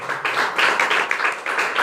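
Church congregation clapping hands together in a fast, steady rhythm, loud and close, with no voices over it.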